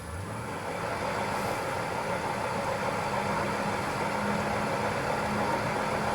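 Wood lathe turning a bowl blank at roughly 430 RPM, a steady continuous motor hum and whir with a constant tone and even loudness, with no voices.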